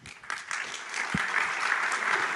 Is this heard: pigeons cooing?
no